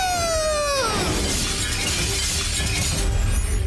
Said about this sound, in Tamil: இத்தனை பிளேட்ஸ் உடைஞ்சு போயிடுச்சா?